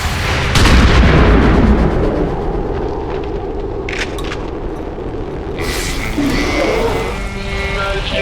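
Gunfire from an XCOM 2 battle, with loud booming shots and blasts spread across the clip over a continuous noisy game soundscape.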